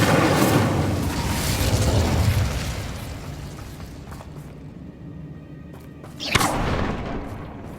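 Incendio fire spell cast in Hogwarts Legacy: a loud fiery burst at the start that fades into a crackling roar, then a second sharp blast near the end, with no talking.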